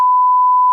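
A steady, loud censor beep, one continuous pure tone running unbroken through the moment, covers swearing on a casual podcast recording.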